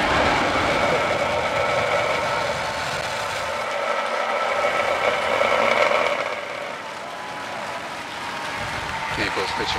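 Falcon Heavy rocket engines roaring at a night launch, a dense, sustained broadband rumble that holds steady for the whole stretch with a slight swell midway, heard from a distance with no one talking.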